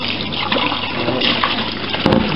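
Running water gushes while a container is rinsed out during blueberry wine making, a steady splashing flow with a brief louder surge near the end, close by and with no talking.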